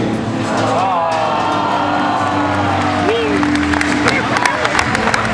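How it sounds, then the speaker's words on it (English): Studio audience at a live Fear Factor stage show applauds and cheers in a steady, loud wash of clapping with shouts and whoops, while a host's amplified voice talks over the crowd. "audience, keep your applause going"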